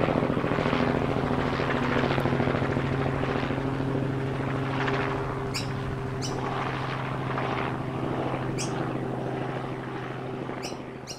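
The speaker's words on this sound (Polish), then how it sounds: "Śmigłowiec z księciem na pokładzie ląduje na polu obok zagrody." Helicopter landing in a field beside a farmyard, its steady rotor throb and engine drone loud and close throughout, easing slightly toward the end, with a few faint clicks.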